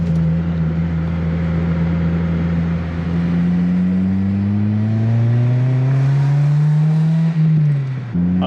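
An Acura RSX Type S, a Honda-built car, revs loudly while driving, its engine tone climbing steadily in pitch through the gear, then briefly dropping near the end, close and dominant with no talk.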